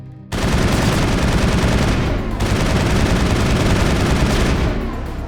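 Sustained automatic assault rifle fire in Mass Effect 1, loud and dense bursts rattling continuously with a brief pause near the middle, no voices over it.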